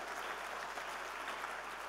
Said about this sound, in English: can we have a big round of applause for the two gentlemen here?